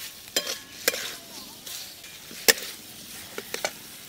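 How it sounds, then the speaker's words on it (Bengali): Fried cauliflower being stirred into spice masala in a pan: a soft background sizzle broken by several sharp spoon scrapes and knocks against the pan at irregular intervals, close by. "এবার আমি ভেজে রাখা ফুলকপিগুলো দিয়ে দেব"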